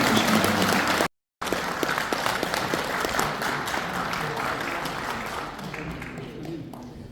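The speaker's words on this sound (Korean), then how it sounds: "여러분 큰 박수로 환영해 주시기 바랍니다." Audience at a humanities lecture opening ceremony applauding as a professor is welcomed to the stage, a dense, loud wash of clapping from a large crowd that thins slightly toward the end, briefly cut out near the start.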